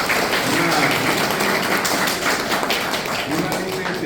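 A university audience at a talk on the Guaraní language applauds steadily throughout, a thick, even wash of many clapping hands with faint voices underneath.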